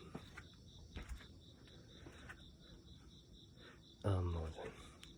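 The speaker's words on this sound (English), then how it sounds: "we can have that little ambiance of crickets, sounds of crickets, and just cars in the background" Crickets chirp in a steady, faint outdoor night ambience with distant cars, a brief voice or sound bursting in near the end.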